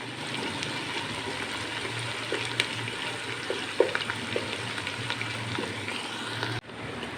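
Ginger garlic paste fries in hot ghee with a constant close sizzle, dotted with occasional stirring clicks and pops, until it suddenly drops away near the end; no one speaks.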